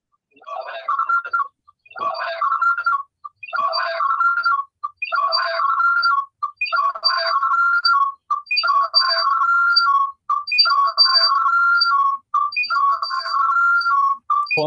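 A phone ringtone going off during an online class, a loud melodic whistle-like tune repeating in regular phrases about every second and a half, clear and steady throughout.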